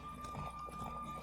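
Horse hooves clip-clopping at a gallop in The Witcher 3 on Switch, a brief run of quick thuds over steady game background sound.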